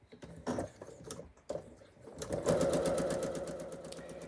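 Pieces for a pinwheel quilt block run through a sewing machine, first in short stop-start bursts of stitching, then a steady, fast rhythmic whir close by.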